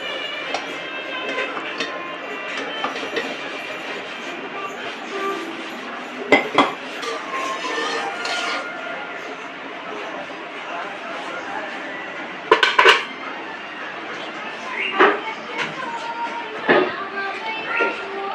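Pots, pans and utensils clink in short, sharp bursts over a steady kitchen hum while jeera fried rice is cooked at home, with voices talking in the background.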